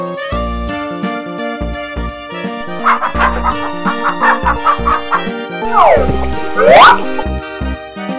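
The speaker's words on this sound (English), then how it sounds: "rooster." A rooster gives a run of choppy, pulsing calls lasting a couple of seconds, set against cheerful children's music with brief swooshing effects afterward.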